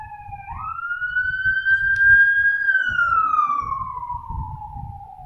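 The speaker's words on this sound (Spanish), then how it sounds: "vamos a esperar a que pase la ambulancia." A passing ambulance siren wails, sweeping up and holding a long tone, then slowly dropping in pitch as it passes, loud over a low rumble of traffic.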